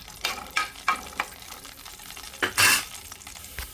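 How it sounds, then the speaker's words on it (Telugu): Cashews and raisins frying in hot ghee for bread halwa give a close crackling sizzle, broken by several quick stirring scrapes and a brief louder burst near the end. "ఇందులోకి జీడిపప్పు, కిస్మిస్ వేసుకుందాము. కొంచెం దోరగా ఫ్రై చేసుకుందాం."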